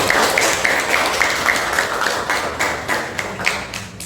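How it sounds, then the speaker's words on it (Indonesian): A classroom of students claps together after a presentation, a busy, even patter of applause with some louder slaps standing out throughout. "berikan tepuk tangan"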